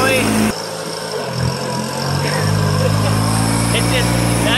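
A Satoh S650g tractor engine running, a steady mid-pitched idle that drops briefly then settles into a constant close drone, with people talking over it.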